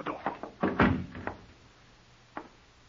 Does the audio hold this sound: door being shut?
yes